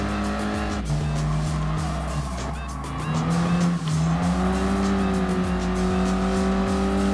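A Renault Sport race car in Gran Turismo Sport brakes and slides downhill: a loud, close engine whine that shifts pitch, with long tire squeals and skidding, and no talk.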